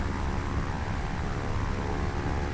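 Steady, loud engine drone of a propeller airplane cruising at altitude in Flight Simulator X, a continuous broadband roar with no talk over it.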